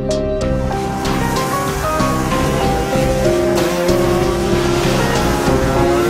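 Racing cars brake hard into a narrow left hairpin on a street circuit, roaring past with loud, steady engine tones that rise and fall in pitch, one after another, with a hint of tire squeal.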